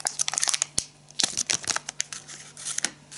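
A plastic zip-lock bag holding silicone Crazy Fish Tipsy soft lures is handled close up, giving a run of crisp crinkles and rustles with a few sharper snaps, no voices.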